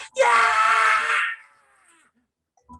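A voice imitates a high-pitched scream, one sustained shrill wail of about a second that fades away, followed by a brief quiet vocal sound.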